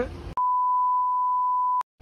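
A single loud, steady censor beep tone holding for about a second and a half, cutting off speech before it and followed by silence.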